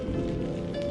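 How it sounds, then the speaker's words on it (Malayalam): Heavy rain comes down in a steady, dense hiss with constant patter on surfaces, loud and close for a brief moment without any voices. "നല്ല മഴയാണ്"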